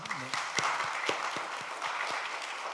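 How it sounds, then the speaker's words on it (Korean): A church congregation applauds to welcome a visitor during a Sunday worship service, with soft, steady clapping from a room of people at a low level. "일어나실 때 우리 박수로 환영하겠습니다"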